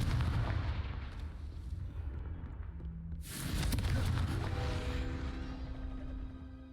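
A Confringo fire spell goes off in Hogwarts Legacy, the wizarding video game: a sudden heavy blast with a broad roar after a rumbling buildup, decaying into a lingering ringing tail.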